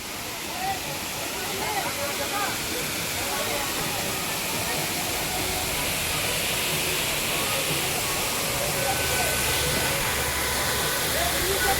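Kalu waterfall near Pune roars in a steady, loud rush of falling water, heard close up from beneath the falls, with people's voices over it.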